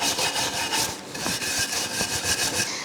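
Wooden platter spinning on a woodturning lathe while being cleaned up, a steady close rasping scrape with rhythmic pulses from the rotation, loud and continuous with no talking.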